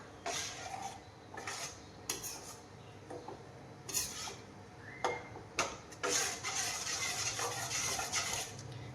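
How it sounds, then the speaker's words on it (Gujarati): Wheat flour and besan with salt and soda being stirred together in a bowl for kurkure, giving close, irregular scraping and tapping clicks with a few louder knocks and no talk. "હવે આપણે હલાવી દઈશું."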